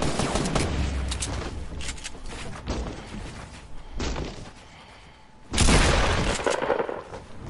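Gunfire rings out in a PS4 video game shootout as bursts of rapid shots and booming impacts, with a short lull before a loud fresh volley near the end.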